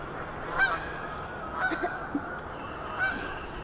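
Canada geese honk a few times at moderate distance outdoors near a winter garden, scattered calls over a steady low background hum.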